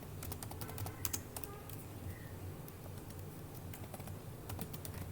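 Typing on a computer keyboard sounds as clusters of quick, light key clicks in uneven bursts, close by over a faint room hum, with no voices.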